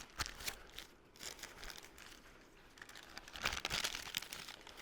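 Paper is folded for an upcycled Christmas wreath, giving close, dry crinkling rustles with sharp crackles throughout that grow louder near the end, with no talking.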